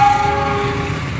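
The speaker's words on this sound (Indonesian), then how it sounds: "kereta barang" Freight train passing very close on the rails, a loud continuous rumble with a horn tone at the start and a steady heavy roar throughout.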